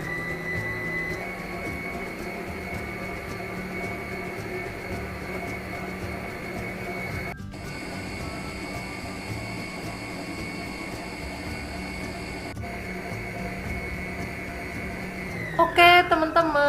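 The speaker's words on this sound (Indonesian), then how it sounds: "Ini kita mixer sampai mengembang putih kental berjejak." An electric hand mixer whips egg yolks into a thick pale batter, a steady loud whirring hum that runs continuously with brief dips before clattering and winding down at the end.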